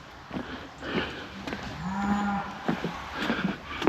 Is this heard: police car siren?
no